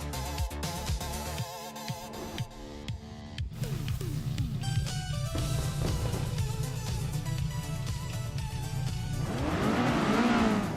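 Race cars in a video game launch off the grid at Circuit du Var, a tricky chicane track, engines revving and climbing through gears with tire squeals, the roar building steadily louder over several seconds.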